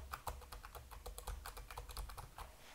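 Typing on a Hable One mobile Braille keyboard for smartphones: a close, steady run of quick plastic key clicks in an even rhythm, with no voices.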